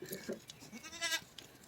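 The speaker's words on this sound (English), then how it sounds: "My goats." Goats bleat on a family farm; one clear, wavering bleat rises in the middle over low barnyard background noise, with a few softer animal sounds around it.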